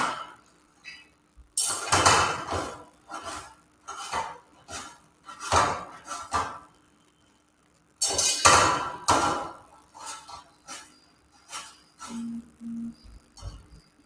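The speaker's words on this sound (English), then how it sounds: "I'm going to just chop some coriander and chili and add it as well." Coriander and green chili chopped with a knife on a board, a close series of sharp rhythmic knocks in quick bursts with short pauses between, and no talk.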